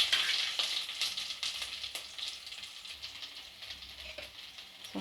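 Green chili and dry chili saute in a pan over low flame, giving a continuous close frying hiss and crackle with soft stirring scrapes throughout.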